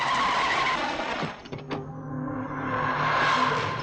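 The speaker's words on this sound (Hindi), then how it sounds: "बिहारी, ए, गाड़ी रोक।" A car in a Hindi-dubbed action movie skids to a halt, with a loud engine and tire hiss that cuts off abruptly into a quieter idle before the noise swells again.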